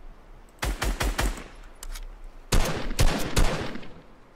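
Video game gunfire: two quick bursts of three or four loud, sharp shots each, close and punchy, with a short gap between them and no talk over them.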